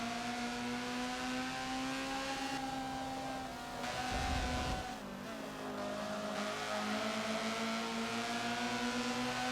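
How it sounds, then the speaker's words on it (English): A Honda CRX lapping the VIR track in the Forza racing game, its engine droning steadily with shifting revs, while the rear tires give a thin, sustained squeal through a corner near the middle. "Hear the back tires protesting a little bit"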